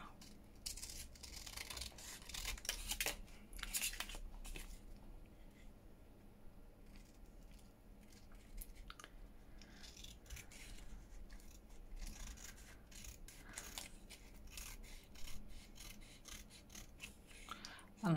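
Large scissors cutting paper for an envelope journal folio, a faint series of soft snipping and rasping strokes in irregular bursts, quiet and close with light handling noise between cuts.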